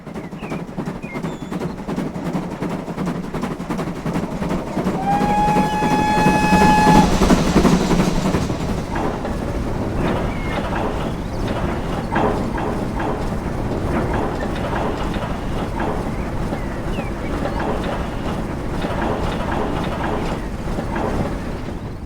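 A GWR 2600 class steam locomotive, number 2632, runs toward Falmouth in Train Simulator. A loud, continuous rolling rumble plays throughout, with a whistle rising in pitch early on, then steady chuffing and wheel noise.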